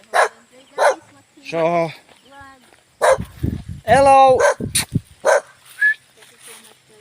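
A guard dog barks outdoors, loud and close, in a series of sharp barks and yelps, with a person talking in between and over them.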